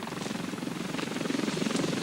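A recovery helicopter's rotor chops in a fast, steady pulsing beat, moderately distant and continuous over a brief stretch with no talking.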